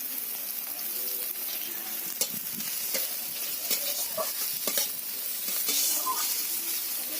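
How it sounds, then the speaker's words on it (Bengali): Onions sizzle as they fry in a pan with ginger-garlic paste, a steady hiss broken by scattered clicks and scrapes from stirring. "পেঁয়াজগুলোকে একটু ভাজা ভাজা করে নিতে হবে পেঁয়াজটা হালকা হালকা দেখুন ভাজা হয়ে গেছে"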